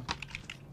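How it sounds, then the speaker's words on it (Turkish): A computer mouse knocks against a keyboard, making a few quick soft plastic clicks and taps in less than a second, faint and close, with nothing else around them. "Ay pardon, mouse'um klavyeme çarptı ya."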